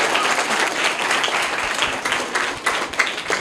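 Dense, steady applause from an audience of children at a school quiz session after a correct answer, loud and continuous for a few seconds with no talking over it.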